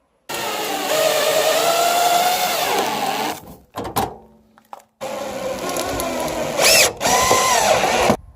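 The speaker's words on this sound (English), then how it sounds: "Now I'm going to go ahead and secure the 2 outermost screws" A power driver runs screws into a MORryde StepAbove RV step on a fifth wheel trailer, with two sustained whirring bursts separated by a short pause and clicks, close and loud.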